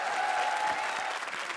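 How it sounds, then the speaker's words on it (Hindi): A studio audience at a Hindi comedy show applauds in a steady, fairly distant wash of clapping that holds evenly throughout. "जोरदार तालियां।"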